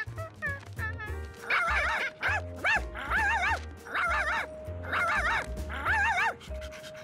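A cartoon dog barks in short yips and whimpers in a run of bursts, close and clear over a soft musical backdrop.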